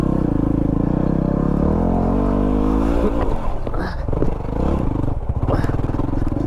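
A Yamaha WR250R motorcycle revs hard and climbs over a log on a single track trail, its engine droning loud and close before clattering and scraping bursts as the bike hops the obstacle.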